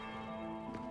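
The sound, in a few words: bell ringing in video game Dragon Age Inquisition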